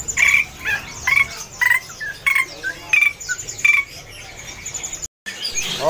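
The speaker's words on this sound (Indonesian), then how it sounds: "untuk contoh sri gunting yang sudah gacor nih bosku ya" A sri gunting (drongo) sings at Pramuka bird market in bursts of sharp, clear whistled and chattering phrases, repeated in quick rhythmic runs, close and loud over a low background hum with other birds and insects faint behind.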